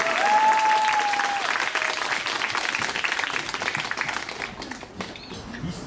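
Wedding guests at a small June wedding break into sustained, lively applause, a dense wash of clapping that holds steady for several seconds before thinning slightly at the end.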